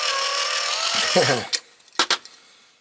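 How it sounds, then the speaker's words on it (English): A cordless power drill with a weak, nearly flat battery whines for about a second and a half, slowing and dropping in pitch before cutting out, followed by a few sharp knocks. "My drill's getting flat."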